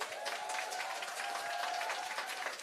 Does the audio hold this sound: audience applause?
yes